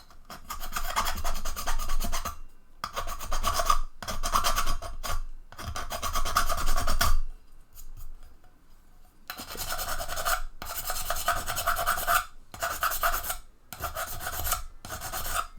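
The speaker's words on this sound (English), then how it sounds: "Let me file that a little bit. This might be a terrible noise" Old, badly applied epoxy being filed off a T-Rex bust: repeated close, harsh rasping strokes in long bursts separated by short pauses, with one quieter stretch midway and no talking.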